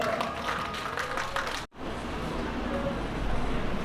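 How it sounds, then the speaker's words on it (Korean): A street rally crowd outdoors claps and cheers in a moderately loud burst that cuts off abruptly, then gives way to open traffic noise and murmur. "우리 양상현 대표에게 큰 박수 한번 부탁드립니다"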